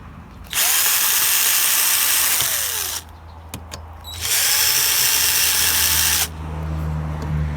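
A power screwdriver unscrews a cooling fan from a power converter, two sustained whirring runs of several seconds each separated by small clicks and handling noise, close and loud.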